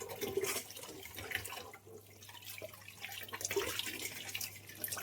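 Fish pieces are washed under a running tap in a home kitchen, water splashing and gurgling steadily at close range with brief drips and shifts in flow, no talk.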